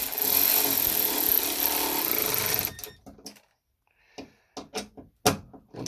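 A power tool runs hard for nearly three seconds, tightening headlight mounting bolts on a Saab 9-3 Viggen during an LED headlight upgrade. A brief pause follows, then several short, sharp bursts of tool noise close by.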